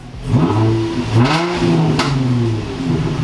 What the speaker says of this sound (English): So now when I rev it, it's gonna be a lot louder.